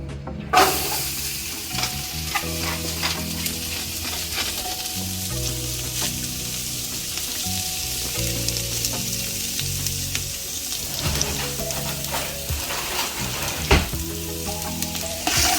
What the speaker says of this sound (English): now we're going to go ahead and throw this into our oil, saute this down.